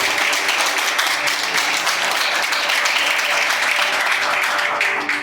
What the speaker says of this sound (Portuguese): dê um aplauso para essa palavra, porque ela é muito bonita